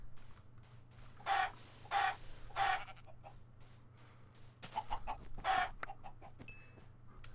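Minecraft chickens clucking in a series of short, separate bursts over a low steady game hum, with a few quieter clucks and small clicks in between, and no talk.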